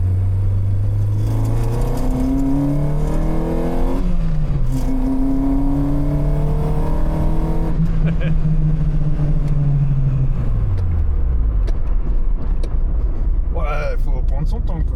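A Peugeot 205 Rallye engine and quiet exhaust rise and fall through gear changes while driving, revs climbing in steps before easing off, close and fairly loud, with a person speaking over the drone.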